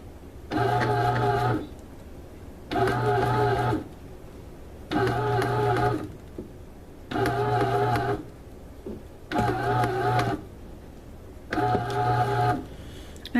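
A bread machine mixes homemade bread dough, its motor whirring in six even bursts of about a second each, separated by short pauses, close and steady with no speech.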